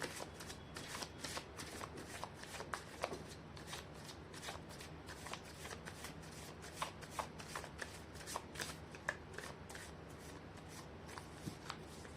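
Tarot cards are shuffled close up and quietly, a long run of regular soft riffling taps and slides with no speech.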